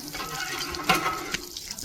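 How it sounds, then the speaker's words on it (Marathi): Water is drawn for washing hands at a rural family home, a brief close splash and gush of running water lasting under two seconds with no talking. "आपण इथं पाणी काढतो हात धुवायला."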